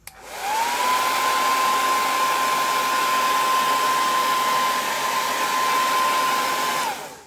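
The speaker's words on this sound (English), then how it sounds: "I'm gonna hit these two guys with the hairdryer." A hair dryer switches on, blows with a loud steady whine for several seconds, then cuts off.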